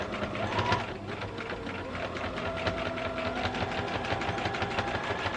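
A sewing machine stitching rickrack onto a quilted Dresden Plate wall hanging, its rapid, even mechanical chatter running close and steady throughout.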